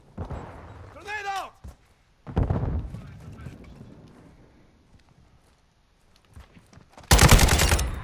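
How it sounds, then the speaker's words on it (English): Bursts of machine-gun fire in Call of Duty: Modern Warfare II, loud clusters of rapid shots separated by quieter gaps, with a short burst early, a longer one mid-clip and a dense, loud volley at the end. "Taking effective fire."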